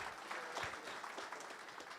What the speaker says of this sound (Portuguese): Uma salva de palmas, Vinícius.